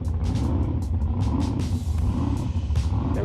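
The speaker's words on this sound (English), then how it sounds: "now we got the fast boats" Racing boat engines roar loud and steady near a Blue Water Casino RV park race course, a dense continuous rumble with rising revving surges throughout.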